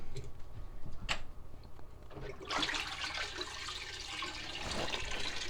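Water rushes steadily through pipes after the valves on a tankless on-demand water heater are reopened following descaling, a continuous hiss that starts partway through after a few faint clicks and stays moderately loud.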